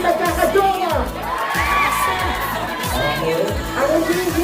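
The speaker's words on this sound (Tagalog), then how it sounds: "Isang malakas na palakpakan na nagkasamang hiyawan." At a mall anniversary gathering, a crowd claps and cheers, with loud whoops and shouting swelling and falling in waves, while a voice carries over the noise.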